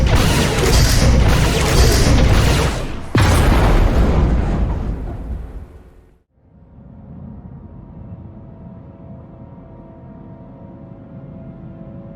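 A big explosion in Star Wars: The Old Republic roars loud and close, then a second blast hits about three seconds in and rumbles away into a long fading decay, ending in a low ambient hum.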